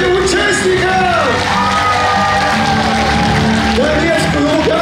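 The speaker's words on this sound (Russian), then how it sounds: "Тройные аплодисменты участникам!" A live audience cheers, whoops and claps loudly for contestants at a victory-themed competition held at the Grebnev estate. The crowd noise is dense and sustained, with shouting voices rising through it.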